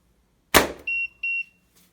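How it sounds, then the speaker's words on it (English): A frameless slingshot fires a 7mm ball with one sharp, loud snap, followed by two short, steady electronic beeps and then quiet. "here are some 7mm balls which I'm shooting with"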